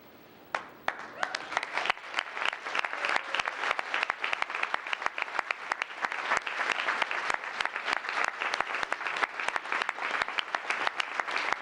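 A town council meeting audience applauds its Student Citizens of the Month, with steady, dense clapping that holds for the whole stretch, near and lively, and no talk over it.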